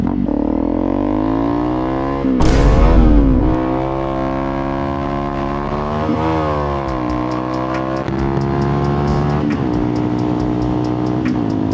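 A Honda CRF250L dual-sport motorcycle engine drones steadily at close range. It climbs through rising revs, with a burst and pitch drop around a gear change, then settles back into a steady ride with wind buffeting.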